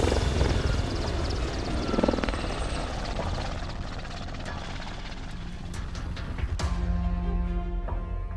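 A Royal Navy Merlin Mk2 military helicopter on an anti-submarine warfare exercise thunders with a loud, steady rotor and engine roar that swells and recedes as it passes.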